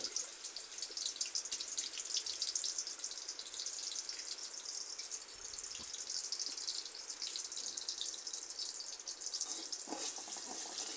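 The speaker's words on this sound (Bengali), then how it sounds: "তেলটা গরম হয়ে গেল এবার পেঁয়াজ কুচিটা দিলাম" Chopped onions dropped into hot oil in a karahi on a stove, cooking for a Bangladeshi broiler chicken curry, give a steady, fairly quiet hiss and sizzle with occasional faint crackles throughout, with no talking.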